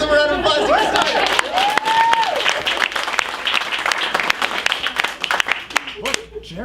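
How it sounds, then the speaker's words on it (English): Audience applause at an improv comedy show ahead of a scene about mayonnaise: loud, dense clapping from a crowd filling the whole stretch, with some cheering and voices mixed in, tapering slightly toward the end. "Let's give them a round of applause to get started."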